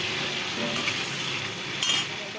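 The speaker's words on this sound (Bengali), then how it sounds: "আলুটা ভাজা ভাজা করে নিচ্ছি ভাজা বসিয়ে দিচ্ছি" Potatoes sizzle and fry steadily in a pan, a continuous close crackle with a couple of faint utensil clinks and no talking.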